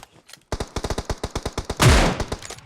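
Rapid bursts of video game gunfire, a string of sharp evenly spaced shots followed by a louder, denser blast, close and loud with no talk over it.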